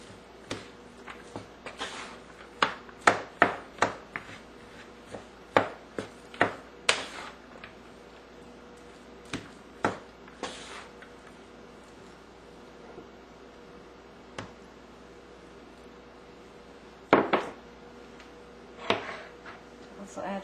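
Sushi rice for a Guam-style sushi, eight cups of it, being mixed with vinegar added a little at a time, giving scattered close clicks and soft scraping taps of a utensil against the bowl, irregular and moderately loud, with quiet gaps between.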